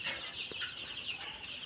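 Seven-day-old Sonali chicken chicks, about 750 of them in a poultry shed on paper bedding, a continuous dense chorus of high peeping chirps at moderate volume.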